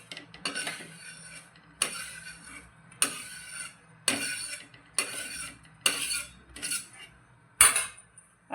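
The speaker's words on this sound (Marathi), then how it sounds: "तीळ झाले. आता तिळाला काढून घेऊ." Roasted sesame seeds being scraped out of a pan with a utensil, producing a series of about eight sharp metallic scrapes and clinks at a steady, roughly one-second rhythm, close and clear with no talking.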